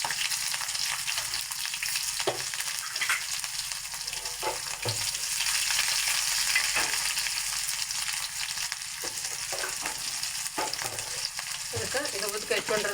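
Onion tempering sizzles and crackles in hot oil with cumin seeds, mustard seeds, curry leaves and urad dal, a steady close frying hiss with scattered pops and occasional stirring scrapes, no voices.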